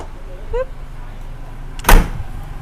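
A Ford Ranger XL+ Sport pickup tailgate swings shut with a single solid metallic thud near the end, preceded by faint creaks and a short squeak, under quiet background hum.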